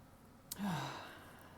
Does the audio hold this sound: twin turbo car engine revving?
no